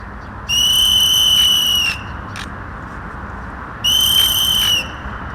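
Two long, shrill whistle blasts sound loudly during a search and rescue team drill, separated by a short pause and a brief chirp, over a steady background rumble.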